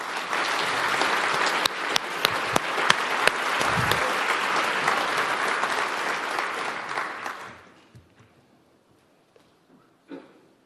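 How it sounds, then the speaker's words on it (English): Applause from a large audience at a World Food Day event for the FAO's 80th anniversary, greeting the Pope: dense, loud clapping with a few sharp claps that lasts about seven seconds, then fades out into quiet with a few scattered claps. "Let's give the applause to the Holy Father."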